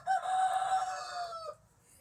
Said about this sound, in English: Never gets old listening to those roosters. They crow all day up until they roost